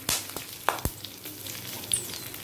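A dry red chili and white and black mustard seeds temper in hot oil, giving scattered sharp pops and crackles over a low, quiet sizzle.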